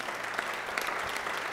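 An audience at an athletics press conference for a hockey center name unveiling applauds steadily, a continuous even patter of many hands clapping from start to finish.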